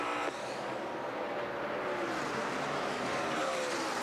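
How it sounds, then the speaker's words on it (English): NASCAR stock cars roar around the Brickyard 400 at Indianapolis in 2012, a loud continuous engine drone that swells as cars pass, with no talking. "there you hear and see Carl Edwards off the pace in the 99 car"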